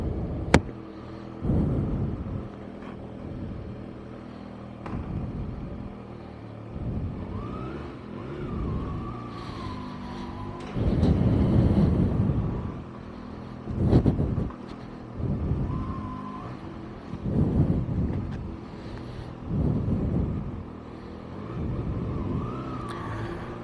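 A Kawasaki ZX6R motorcycle is ridden on the road toward Mysore, its engine rising and falling through repeated revs and gear changes. The sound is loud and close, with no talking.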